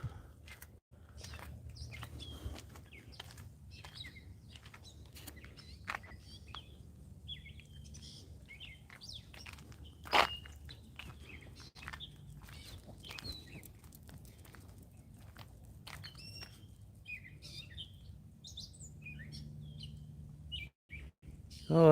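Birds chirp and squawk outdoors in scattered bursts over a long stretch, fairly faint against a low background hum, with occasional footsteps and a voice murmuring in the background.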